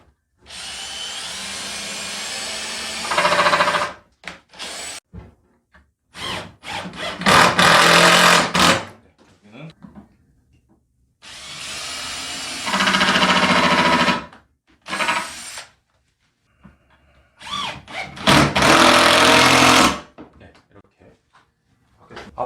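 Short repeated bursts of an industrial sewing machine with a servo motor, used while stitching a replacement car seat cover, each run lasting a second or two with quiet pauses between, close and fairly loud.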